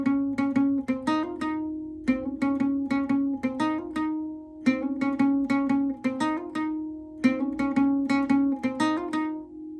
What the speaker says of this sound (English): it's the guitar riff. And so it's just this fun little riff that would sound like this